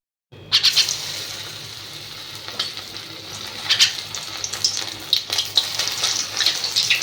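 Lentil fritters (bora) fry in hot oil, starting with a sudden burst as batter hits the pan, then a steady crackling sizzle with bubbling spurts that build up again toward the end, close and fairly loud, with no talking.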